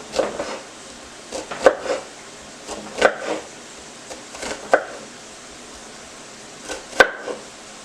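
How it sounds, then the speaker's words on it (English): Knife coming down on an onion on a cutting board, about a dozen sharp wooden taps in uneven bursts of two or three, close and clear against a quiet room. "Then just chop it."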